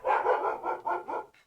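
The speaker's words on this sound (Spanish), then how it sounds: "Sorry si se escuchan mis perros." A house dog barks in a quick run of about five sharp, mid-pitched yaps, fairly close and moderately loud, ending in a softer short yip, with no talking over it.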